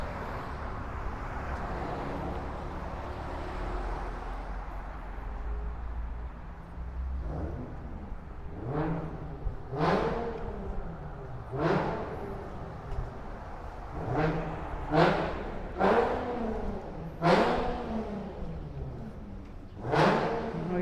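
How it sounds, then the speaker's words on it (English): A car engine revs repeatedly on a Brooklyn street in Gravesend, a low idle rumble giving way to a series of sharp, loud rising revs in quick succession from about midway on. "Somebody playing with their car."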